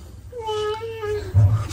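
A person imitates a cat's meow with a drawn-out tonal mew in a home setting, loud and close, followed by a low thump and background household noise.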